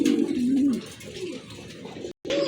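Caged pigeons coo close by, a rolling, throaty call that swells and fades, then returns after a brief break.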